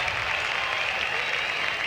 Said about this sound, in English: give him a nice hand applause to Ralph Stanley